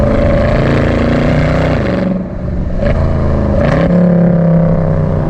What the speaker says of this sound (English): you get these little like burbles from the factory exhaust when you're downshifting